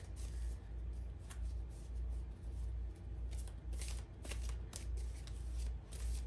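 A tarot deck is shuffled again and again, each riffle a soft papery flutter followed by a brief pause, set over a low steady hum with no talk.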